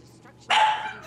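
A dog barks once loudly and close in the Dead Rising 3 game, a short sharp bark after quiet background sound.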